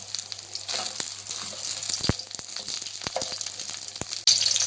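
Green chillies frying in oil in a karahi for a Turkish karahi dish, giving a steady close crackling sizzle with scattered sharp pops and a couple of utensil knocks, with no talk.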